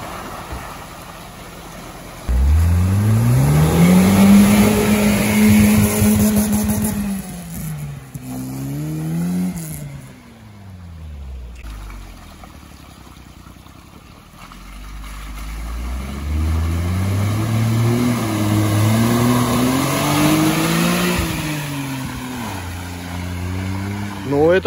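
An off-road car's engine labours and revs as it climbs a rocky ridge, with pitch rising and falling through repeated throttle bursts. It is loud and close, with people talking over it.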